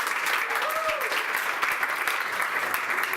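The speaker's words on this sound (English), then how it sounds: "Round of applause for you." A crowd at a 2019 MetaProp Demo Day event applauds in a dense, steady round of clapping that fills the whole moment, with a voice briefly heard over it.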